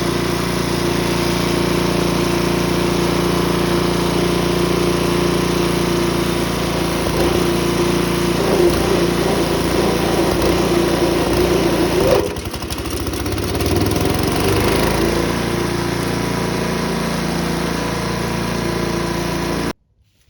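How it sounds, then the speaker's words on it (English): A Troy-Bilt Tomahawk 8HP chipper shredder engine runs steadily at a loud, constant drone with an even throbbing hum, briefly dipping midway before resuming and cutting off at the end. "I'll show it to you here in just a second once I get the motor started."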